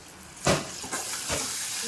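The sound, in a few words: tempering sizzling in hot oil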